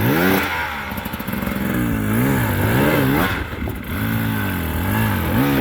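2025 Beta two-stroke enduro motorcycle climbing uphill, its engine loud and close with repeated revving swells and falls throughout.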